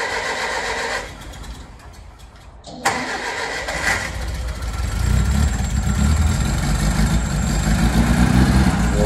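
A 1951 Morris Cowley van engine cranks with a sharp catch, then fires and settles into a loud, steady low idle that rumbles close by to the end, with no talking.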